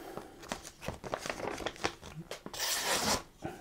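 A homemade kit knife slices and tears through paper in a quick series of sharp rips and scrapes, with a longer loud tear near the end, close and alone.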